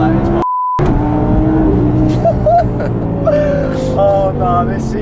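Inside a tuned 640 hp Audi R8 V10 facelift with Milltek exhaust, a deep steady engine drone runs under excited talk, with a brief electronic beep near the start.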